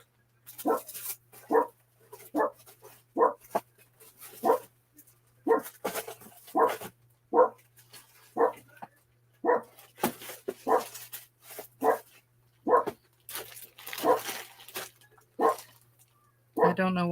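A dog barks repeatedly in short, loud bursts at a steady, insistent rhythm, with a faint background hum and a few whimpery notes.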